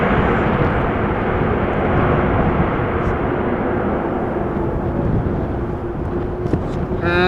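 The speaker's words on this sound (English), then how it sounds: "Nice A321 arriving from Istanbul." Airbus A321 arriving from Istanbul at Amsterdam Schiphol in stormy weather, landing with thrust reversers: a loud, sustained roaring rumble that stays heavy and steady, buffeted by wind noise.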